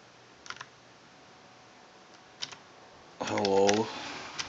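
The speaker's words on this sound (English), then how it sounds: "So I made the buffer so I can type like" Typing on a computer keyboard wired to a pair of boards, a few isolated key clicks followed by a brief burst of keystrokes, close and fairly quiet over faint background hiss.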